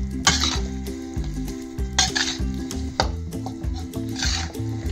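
Raisins being stirred and roasted in a pan for gond laddu, with a spoon scraping and clinking against the metal in scattered strokes under steady background music.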